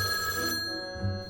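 A toy-like shell phone rings in a brief bright burst with steady high tones, fading out after about half a second, followed by a low soft thump.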